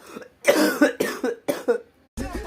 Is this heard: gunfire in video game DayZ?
no